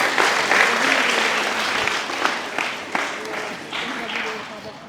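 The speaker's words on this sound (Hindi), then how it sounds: "तालियां दे दो" An audience at a Christian healing meeting in Chhattisgarh breaks into loud applause, dense clapping that gradually thins, with a few voices speaking over it near the end.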